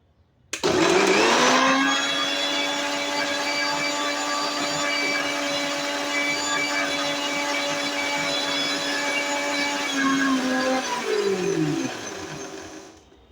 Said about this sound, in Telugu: ఇప్పుడు మిక్సీ చేసుకోవాలి.